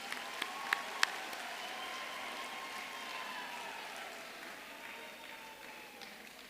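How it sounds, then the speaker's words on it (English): Applause for graduates fills a university graduation ceremony hall, a few sharp early claps swelling into steady, sustained clapping from a large crowd that slowly thins toward the end. "let's have a round of applause, please, for all of our graduates."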